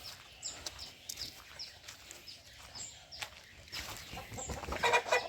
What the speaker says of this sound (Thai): ตอนนี้ไก่ก็ออกหากินนะนี่นะครับ